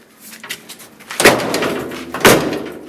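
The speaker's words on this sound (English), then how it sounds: "Let's see if the door shuts." The door of a VW Beetle body being stripped down, with the glass already removed, shuts twice in quick succession, each a sharp, loud close about a second apart, with faint rustling before.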